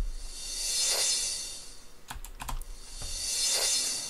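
A reversed crash cymbal sample plays in FL Studio as two hissing washes that swell up and cut off. A few soft mouse clicks fall between them.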